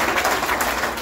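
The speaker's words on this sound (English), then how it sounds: "Give him a round of applause as well." Applause for the Minister of Culture, dressed in a traditional outfit, at a Saint Martin's Day celebration: a dense, steady wash of clapping from a crowd, fairly loud and continuous throughout.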